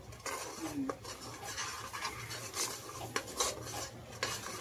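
Spices and ground masala paste roasting in a pan, stirred with a spoon that scrapes and clinks against the metal in a steady, close rhythm. A low hum runs underneath and a brief voice is heard.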